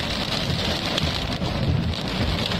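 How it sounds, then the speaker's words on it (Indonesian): Small hailstones fall with heavy rain onto a street in Margonda, Depok, a dense, constant patter and hiss with no voices. "Kecil-kecil batu-batu es tuh di pinggir jalan."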